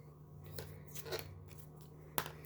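Scissors snip through a paper puppet piece in a few short, quiet cuts over a low steady hum, with one sharper snip near the end.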